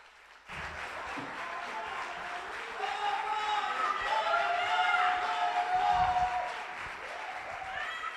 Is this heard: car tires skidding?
no